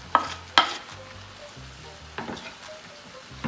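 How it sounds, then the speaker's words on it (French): Chopped onion and garlic dropped into a pan of frying duck legs, bursts of sizzle and stirring scrapes with a few sharp clacks against the pan, close and fairly quiet. "Ensuite, je vais venir mettre de l'oignon, suivi de l'ail."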